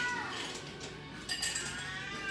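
A cat howls and meows in drawn-out, wavering cries, fairly close, with faint clinks of glassware in the background.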